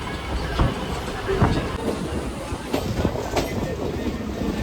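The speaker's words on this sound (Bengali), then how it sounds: "আর আমাদের এই যে এখন যে ট্রেনটা ছাড়লো" A train pulls away from a station platform, its steady rumble and rolling clatter running throughout with a few sharper knocks along the way, heard from close by.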